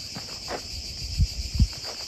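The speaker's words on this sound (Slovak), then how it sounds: "Neviem, či sú počuť tie cikády, alebo čo to je." Insects in dry Spanish Pyrenees terrain give off a steady, high, shrill drone throughout, with a few soft low thumps nearby.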